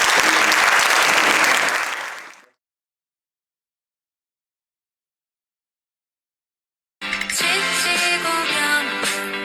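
A gathering at an end-of-semester meeting bursts into loud applause that fades out after about two seconds, then silence, then music begins.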